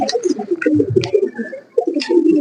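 Racing pigeons coo at close range, with repeated soft, throaty rolling calls overlapping in a continuous cluster, loud and near.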